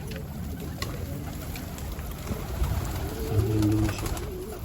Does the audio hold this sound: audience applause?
no